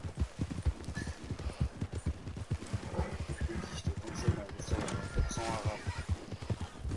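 Rapid Red Dead Redemption 2 horse hoofbeats clip-clop steadily throughout, a galloping rhythm under a voice talking, with a horse's whinny briefly rising midway.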